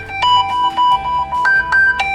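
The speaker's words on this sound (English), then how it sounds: "you can actually silent the ringtone just by flipping the phone" An LG G4 phone rings on an incoming call, a loud, clean electronic ringtone of repeating bright melodic tones in short rhythmic bursts.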